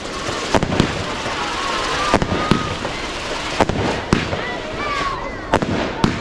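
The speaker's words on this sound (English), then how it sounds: "then we bring in the Catherine wheels." Catherine wheel fireworks, Razzmatazz from Bright Star and Carousel, spin at an outdoor display in Liverpool, with whistling spins over a steady crackle and several sharp bangs scattered throughout.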